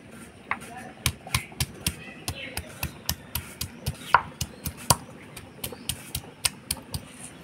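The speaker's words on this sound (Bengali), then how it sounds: "আদা জিরা ধইনা একসাথে বেটে নিব।" Ginger, cumin and coriander ground together on a grinding stone: steady, rhythmic knocks and scrapes, close and sharp, about two or three per second, with faint voices in the background.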